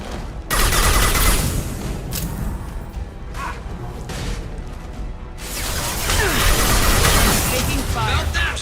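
Sustained gunfire and crashing combat sounds from the video game Mass Effect 2, loud and continuous with dense bursts, under a player's voice that speaks over the shooting.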